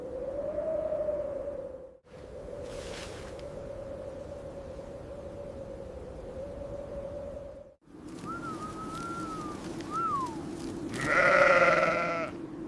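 A sheep's wavering bleat carries on for several seconds over a steady background, followed by a whistled call and a brief burst of higher, bird-like chirping.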